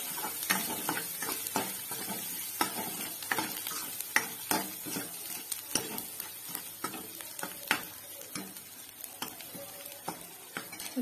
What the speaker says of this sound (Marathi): आपण जे हे मसाले घेतले ते ह्यामध्ये टाकूया व्यवस्थित मिक्स करून घेऊया